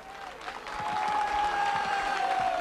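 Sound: audience applauding the mayor

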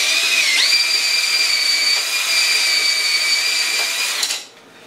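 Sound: power drill turning a can sealer

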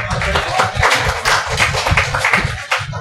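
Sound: audience clapping at poetry recital

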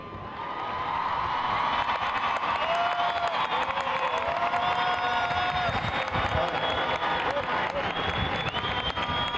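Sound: crowd applauding and cheering for a reciter

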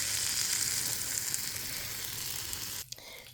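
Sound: fish wrapped in pumpkin leaves frying in a pan

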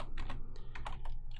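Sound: typing on a computer keyboard

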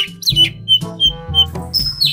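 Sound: kacer (magpie-robin) bird singing

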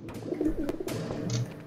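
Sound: bird noises in the video game Garry's Mod

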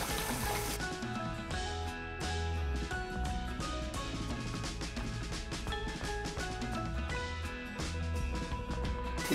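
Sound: stirring chicken curry with roasted masala in pan

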